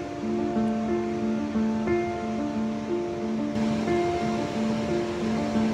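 Broad, steady rush of the 10-metre Pillones waterfall cascading through high arid desert in Arequipa, constant and enveloping, with sustained tonal music layered over the water.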